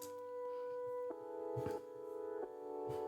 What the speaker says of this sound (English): This is just like the upright piano Ableton preset, but the sample is reversed.